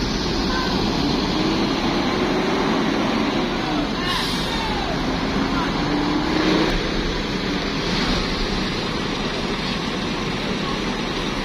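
A bus parking at a terminal idles with a steady, rumbling diesel engine, with brief hissy bursts like air brakes, and faint talk over the top.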